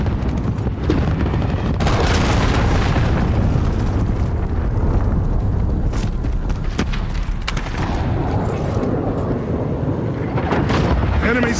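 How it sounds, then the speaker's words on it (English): Explosions and gunfire in the online shooter Call of Duty: Modern Warfare on PC, with an enemy cruise missile coming down. The booming blasts and crackling fire form a loud, dense battle din that never lets up. "Enemy cruise missile."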